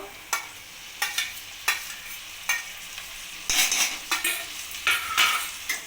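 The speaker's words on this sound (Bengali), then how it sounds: "এবার আমি টমেটো কুচিটা দিয়ে দেবো" Chopped tomatoes frying in a pan of oil for dhaba-style palak paneer, with a steady sizzle broken by regular bursts of spoon stirring and scraping, close and without talk.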